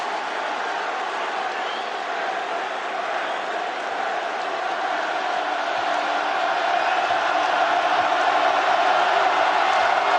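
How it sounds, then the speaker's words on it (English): Basketball arena crowd cheering after missed free throws, a dense, steady roar of many voices that swells slightly louder toward the end. "Back-to-back free throw misses for Damian Ball, and the crowd loves it"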